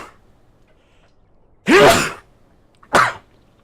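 A single person sneezes twice, loud and close: one long burst, then a shorter second sneeze about a second later, over a quiet background.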